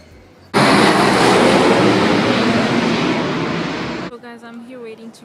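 An airplane roars in suddenly and loudly, as if passing close overhead, holds as a broad rushing drone for several seconds, then drops away, after which a person starts talking.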